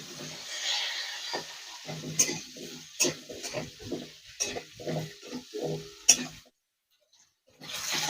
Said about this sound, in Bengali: ওই তেলেই ভেজে নেবো আলুটা।